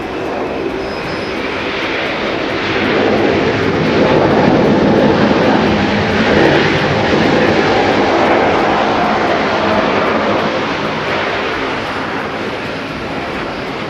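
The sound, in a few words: Japan Airlines airliner at Haneda airport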